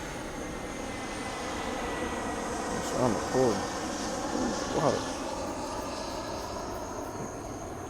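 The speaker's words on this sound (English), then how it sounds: "I'm gonna let this plane pass." An airplane passes overhead with a sustained broad engine roar, steady and fairly loud, while a person speaks briefly over it.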